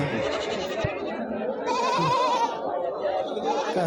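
Goats bleat loudly and close by at the Galiveedu livestock market, with several overlapping wavering cries. People talk over the animals throughout.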